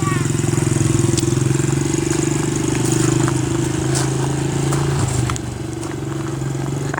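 Motorcycle engine running steadily through a ride, a loud close droning hum that drops in level near the end, with faint voices underneath.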